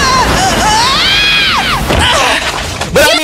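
Yuki from the Beyblade anime lets out a loud, drawn-out yell as he gets pushed back, a wavering high-pitched scream rising and falling, followed by crashing impact noises near the end.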